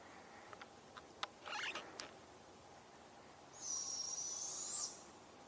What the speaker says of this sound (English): We have a baby barred owl.